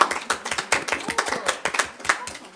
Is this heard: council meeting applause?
yes